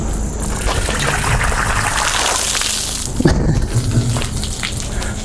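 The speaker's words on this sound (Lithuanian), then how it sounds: "Dabar reikia išleisti tą vandenį man" Water drains out of a wine barrel in a continuous gushing, splashing stream, close and loud, with a brief knock partway through.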